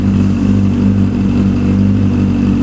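A custom Yamaha XJR1300 with a 4-into-1 exhaust idles loud and close, a steady deep engine drone without clear revving swells.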